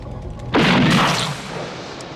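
Gunfire from live ammunition in a kids' paintball war, a single loud burst erupting suddenly and booming before decaying over about a second against a quiet background, with no talk.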